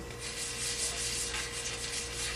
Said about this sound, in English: I just sanded a little bit of each side down